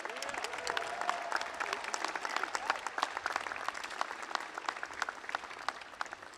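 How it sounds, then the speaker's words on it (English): A commencement audience at Housatonic Community College claps steadily, a dense, even wash of applause with a faint crowd murmur beneath and no speech over it. "Please join me with a round of applause"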